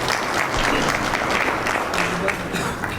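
Sustained applause from an audience at a police swearing-in ceremony for four new recruits, a dense, steady wash of clapping throughout, with a voice faintly underneath.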